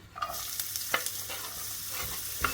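Faint sizzling of onions frying in a pan with a few soft scrapes and clinks of stirring, quiet and close.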